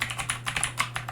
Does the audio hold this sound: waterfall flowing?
no